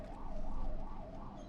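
An ambulance stuck in a traffic jam near Chamba, on the road from Rishikesh to Yamunotri, sounds its siren in a faint, rising and falling wail that cycles several times over road noise.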